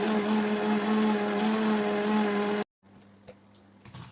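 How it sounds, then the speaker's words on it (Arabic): An electric mixer beats a runny crêpe-pizza batter of flour and other ingredients, a loud steady whir for about two and a half seconds that cuts off abruptly, leaving quiet clinks and faint sounds. "هضرب بقى كل المكونات دي كلها مع بعض لغايه ما تتكون معاكم عجينه سائله"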